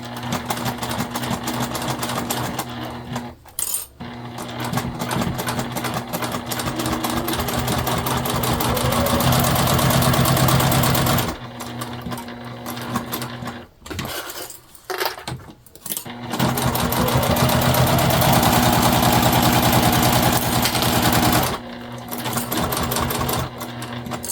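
A sewing machine stitches fabric in long, steady runs, loud and close, with brief pauses between bursts and no talking.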